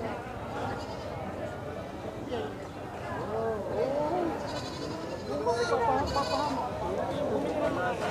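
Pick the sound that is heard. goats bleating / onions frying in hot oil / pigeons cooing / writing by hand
goats bleating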